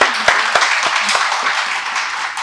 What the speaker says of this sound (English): I think one round of applause right here.